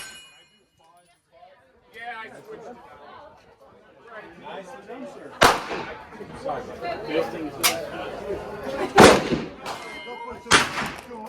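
Gunshots at an outdoor shooting range in Brookhaven, New York fire as several loud, sharp cracks in the second half, spaced irregularly amid people talking nearby.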